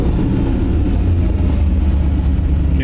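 A 1940 Ford Tudor's supercharged 276 flathead V8 idles loud and close, a steady low rumble with an even, lumpy throb and no pauses.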